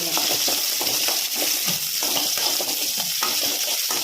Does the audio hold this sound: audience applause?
no